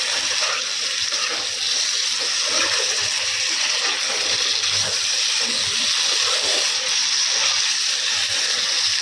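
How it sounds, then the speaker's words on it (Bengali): Rain falling steadily outside a home, a dense, even wash of hissing water that stays constant and fairly loud throughout, with no talking. "তোমরা হয়তো বৃষ্টির আওয়াজ পাচ্ছ।"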